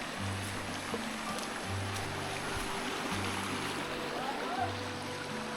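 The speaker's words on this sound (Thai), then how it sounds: "มีน้ำห้วยไหลผ่านหมู่บ้าน" A small stream runs through a hillside village in Laos, a soft continuous wash of water beneath a low steady hum, heard at a distance and fairly faint.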